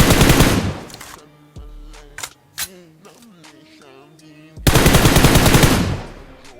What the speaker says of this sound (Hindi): बॉट का फायर आता है, और अब देखो एक बॉट ने एक को मार दिया